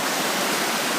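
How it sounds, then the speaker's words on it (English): A rushing river in flood, washing rocks, trees and debris downstream, as a loud, steady broadband roar of churning water with no pauses. "What it is the rocks and trees and debris crashing around down there,"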